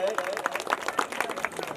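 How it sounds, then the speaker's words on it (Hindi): A crowd at a Chitto Mata Yatra gathering claps loudly and continuously, with rapid overlapping claps under a murmur of crowd voices throughout the short burst. "हमारे जो युवा नौजवान थे उनके लिए भी एक बार जोरदार तालियां हो जाए।"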